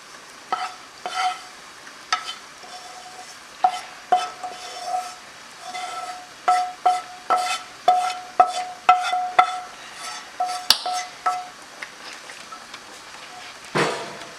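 Sautéed masala is stirred into pork curry in a pan, with a spoon scraping and clinking against the metal in a steady rhythm over a soft sizzle, ending with one sharper knock.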